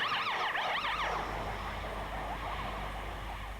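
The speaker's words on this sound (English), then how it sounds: "If you hear that noise, pull over and let the ambulance pass." A wailing ambulance siren rises and falls quickly, loud at first and then fading into distant traffic rumble.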